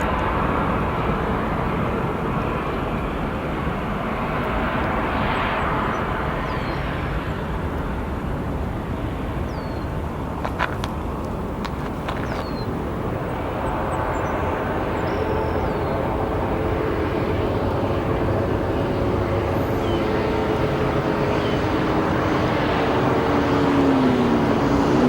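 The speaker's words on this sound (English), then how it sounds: "Soon to depart our Turkish Airlines flight to Istanbul, based here out of Chicago O'Hare International Airport." Turkish Airlines jet at Chicago O'Hare International Airport, a steady distant engine rumble lasting throughout with little variation, heard alone without talk.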